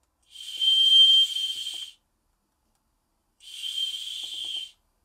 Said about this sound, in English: but I'll try the whistle.